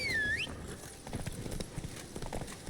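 Hoofbeats of a horse galloping in The Witcher 3 video game, a steady fast clip-clop running throughout, opened by a brief whinny.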